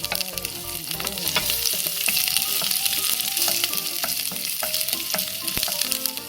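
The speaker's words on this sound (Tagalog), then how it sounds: "Mainit na ang ating mantika, ilagay natin ang ating onion at saka garlic." Onion and garlic frying in hot oil in a pan, a loud, even crackling sizzle lasting throughout, close up, with light stirring clinks and no talk.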